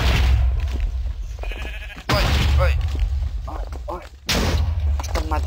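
Bleating sheep in Minecraft, several wavering cries in short bursts that start and stop abruptly, loud and close over a low rumble, with a person talking in between.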